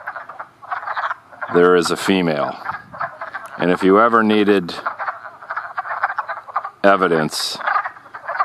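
A dense breeding chorus of wood frogs croaking and clucking in overlapping bursts, loud and close, with a person talking over the calls.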